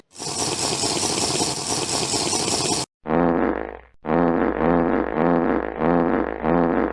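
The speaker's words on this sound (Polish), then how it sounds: "Masz szczęście, że brokatowe bąki nie śmierdzą" A Poopsie Fantasy Friends toy doll plays a loud electronic fart sound effect: one long buzzing blast, then a short pause and a run of rhythmic sputtering bursts.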